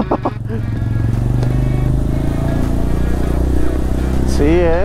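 A motorcycle runs steadily and loudly up close, its engine droning throughout with a rising rev near the end, while people talk over it.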